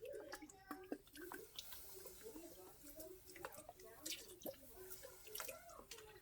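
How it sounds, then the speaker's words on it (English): Soy sauce poured into the water in a roasting pan for a roast, giving a light, steady trickle of dripping and splashing liquid at close range. "Now in the water, I'm going to add some soy sauce."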